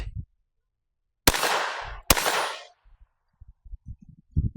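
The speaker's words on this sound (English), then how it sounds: "It's been a while since the last time I took this one to the range and do a little bit of shooting." Two sharp, loud pistol shots from a Taurus TX22 Gen 2 at a shooting range, spaced under a second apart, each with a brief ringing decay, followed by quiet handling clicks and rustles.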